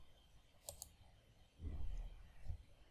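Computer mouse clicking during an Oracle Database 19c install: a quick double click, crisp and close, followed by low muffled handling or breath noise.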